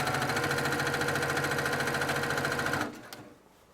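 A multi-needle embroidery machine stitches binding onto a quilted table topper, a steady rapid mechanical whir with rhythmic needle chatter that runs continuously, then stops abruptly near the end, leaving faint quiet.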